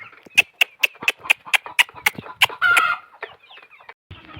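Native village chickens on a small poultry farm give a fast run of sharp, close clucks in a steady rhythm, then one louder drawn-out squawk, before fainter clucking trails off.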